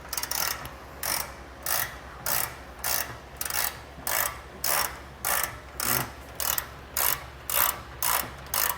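A hand ratchet works loose a corroded bolt under a 2022 Jeep Cherokee, an even rhythm of about a dozen close clicking strokes with short gaps between them, no talking.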